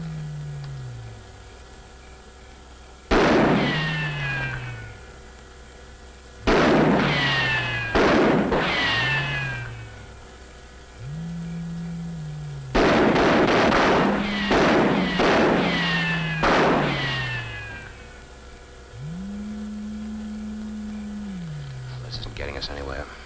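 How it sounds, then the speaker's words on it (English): Soldiers fire a few rounds in a 1957 science-fiction film: several sharp, loud gunshots come singly and in quick clusters, each trailing off, over a low wavering electronic drone. "Maybe if we fired a few rounds, it might scare them out."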